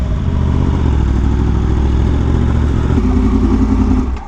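Engine of a Yamaha R1M crossplane motorcycle, a loud, steady deep rumble close by that shifts to a slightly different pitch partway through, then begins to fade at the end.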